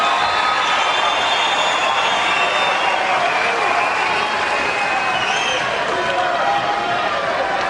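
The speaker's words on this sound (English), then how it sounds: "What an ovation." Tennis crowd at the 2008 Australian Open, Hewitt versus Baghdatis, roaring in a sustained ovation with dense applause and cheering that stays loud and even throughout, with no break.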